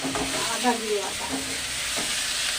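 Sliced onions dropped into hot oil in a home kitchen pan, hissing in a dense, continuous sizzle up close, with faint tonal squeaks and clatter in the background.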